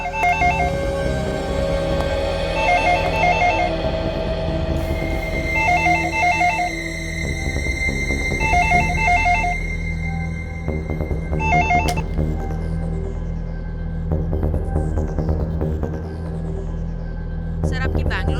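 A telephone rings in a home, sounding in repeated electronic bursts over a steady background hum, with short clicks and beeps near the end.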